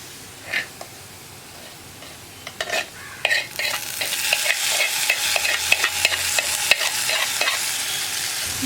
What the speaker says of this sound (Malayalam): ഇതെല്ലാം ചേർത്ത് നന്നായിട്ടൊന്ന് ഇളക്കി മിക്സ് ചെയ്യുക.